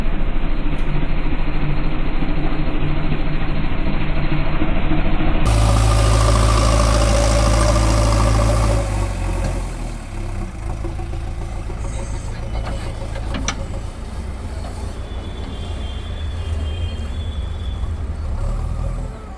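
A JCB excavator's diesel engine running in a farm field near a brick kiln, a loud, close, continuous rumble that shifts in pitch as the machine works, with people talking over it.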